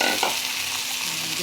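Marinated meat for pancit guisado frying in a hot pan, giving a steady, loud close sizzle with a little stirring, no voices.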